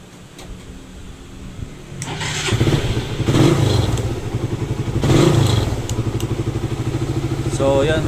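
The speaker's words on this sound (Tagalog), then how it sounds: "nung tinesting yung battery namin, gumana naman yung electric starter ni boss" Motorcycle electric starter cranking during a battery test, with clattering bursts as the engine turns over, then a steady rhythmic putter that swells twice.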